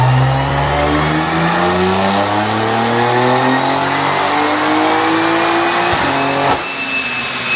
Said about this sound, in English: we're going to do a few runs and just see how the map performs.